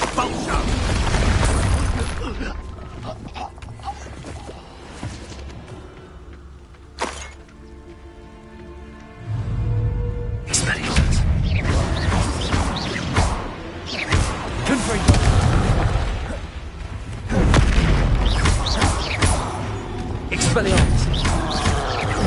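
Repeated Expulso explosion spells blast in Hogwarts Legacy, loud booming bursts with crashing debris, several impacts in quick succession between quieter stretches, with a voice speaking over parts of the action.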